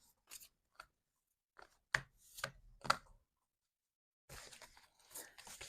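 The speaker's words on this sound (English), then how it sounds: "I'm now going to shuffle these calling cards" Tarot cards being shuffled: dry papery rustles and crisp flicks in short bursts, then a denser run of shuffling near the end, close and quiet with pauses between.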